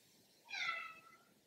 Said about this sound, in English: That's Archer, my cat